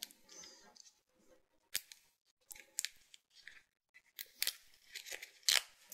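Double-faced Treasure It tape having its backing peeled off by hand: a series of short, sharp tearing rips and crackles in separate bursts, close and fairly quiet, with pauses between them.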